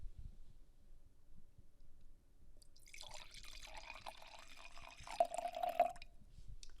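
Wine poured into a glass gives a soft, close gurgling trickle lasting a few seconds and ending in a few bright glugs, faint against a quiet room.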